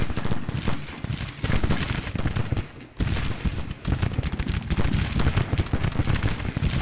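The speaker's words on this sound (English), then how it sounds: "Irish Brigade. Give me deadly volley." Dense, continuous musket volleys crackle from the Irish Brigade's Civil War infantry line in Grand Tactician: The Civil War, a loud, rolling fusillade of overlapping shots with a brief lull midway.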